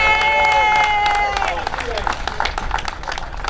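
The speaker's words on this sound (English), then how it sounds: "Let's give him a round of applause" Crowd applause for the mayor of Lynbrook at a community golf outing, broad clapping with voices and cheers mixed in; a sustained tone over the first second and a half, then dense scattered clapping continuing steadily.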